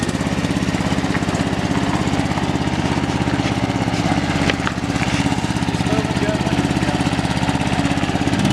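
A homemade trail mower's small engine runs steadily in first gear, a close, continuous loud putter with a brief dip midway; someone speaks over it.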